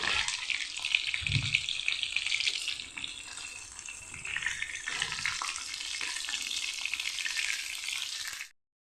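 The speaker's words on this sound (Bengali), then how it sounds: "পটলগুলি এভাবে ভেজে নিলাম, খুব একটা লাল করে নিলাম না" Pieces of pointed gourd (potol) frying in oil make a loud, steady hiss that dips briefly midway, with a soft knock near the start, and then cuts off abruptly at the end.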